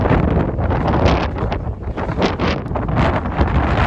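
Strong wind buffets the microphone outdoors on a UK van-life stop, a loud continuous roar with gusting swells and low rumble throughout, no voices.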